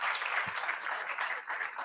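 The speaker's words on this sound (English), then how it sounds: "A round of applause for Donald." An audience applauds at a youth leadership fellowship launch for International Day of Democracy, giving steady, even clapping throughout a short burst with no voices over it.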